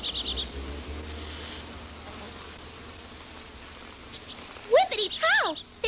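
Cartoon bee buzzing in an animated series, a faint steady drone early on before a few brighter, sharper buzzy bursts near the end.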